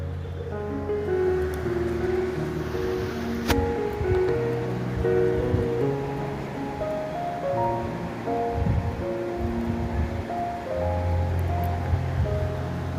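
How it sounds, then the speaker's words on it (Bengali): Chicken curry stirred and fried with a spatula: a dense, continuous sizzling hiss with soft scraping and clinks, close and steady throughout, with no talk. "ভালোভাবে খুন্তি দিয়ে নাড়াচাড়া দিয়ে ভালোভাবে কষাতে হবে"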